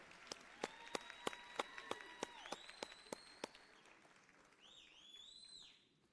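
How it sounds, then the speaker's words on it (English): Applause at a nursing pinning ceremony during a convocation: sharp, evenly spaced claps ring out in a reverberant hall over a faint crowd, with high whistles and bird-like squeaks in the final seconds. "Another round of applause for this group."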